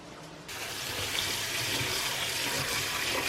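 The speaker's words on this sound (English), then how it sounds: "And I'm just going to go ahead and wash this rice." A faucet switches on and runs steadily into a sink, with water splashing and swishing softly as rice is rinsed; fairly quiet, no talking.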